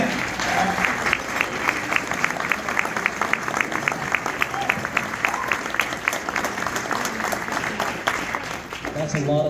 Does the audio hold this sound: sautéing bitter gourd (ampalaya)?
no